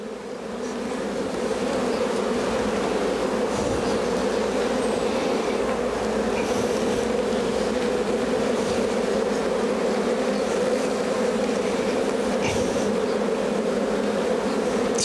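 A honeybee colony buzzing during a spring hive inspection produces a dense, steady hum of many bees, loud and close throughout, with a few faint handling knocks and no talk.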